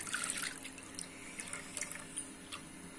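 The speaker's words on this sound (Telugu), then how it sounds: "पैन पेट्टुकोनि दांट्लो मनं मज्जिग पोसुकुंदां" Buttermilk poured into a pan on the stove, a steady faint liquid trickle and splash with small drips, heard close and alone.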